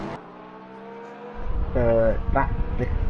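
Porsche race cars competing at Laguna Seca: a steady harmonic engine drone gives way to a louder, rising and falling engine roar as a car passes close by, with more engine noise continuing afterward.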